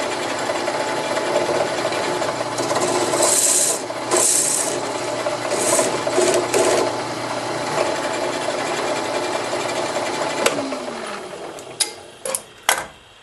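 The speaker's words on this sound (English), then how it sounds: "I just used the barrel trimmer and just trim them down till you can just see the brass on the ends." Barrel trimmer cutting pen blanks down to their brass tubes, a steady rasping, whirring scrape with brief louder bursts, ending in a few sharp knocks.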